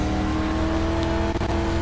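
A race car engine drones steadily and loudly as a Legend car slides through a dirt corner in the iRacing game, a constant buzzing tone with no pauses.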